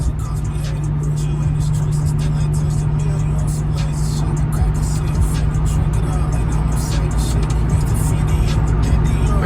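A Chevy SS cruises along the road, its engine giving a steady loud low drone with road and wind noise throughout, while a voice speaks over it.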